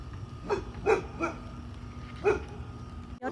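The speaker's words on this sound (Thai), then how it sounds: "หมาเห่าแวว" A neighbour's dog at a home garden with squash plants barks four times in an uneven rhythm, moderately loud and a little distant over low background noise.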